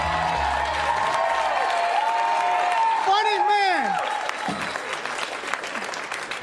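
Sustained applause and cheering fill a comedy club room as the comedian is introduced, with an announcer and other voices speaking over the crowd.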